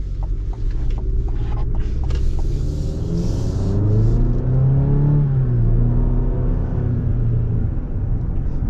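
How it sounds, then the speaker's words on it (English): A 2025 mid-size pickup with a four-cylinder turbo engine accelerates, its rumble climbing in pitch and loudness before easing off, a steady close drone with no talking. "It does taper off towards the top though, which is pretty typical of a 4-cylinder turbo."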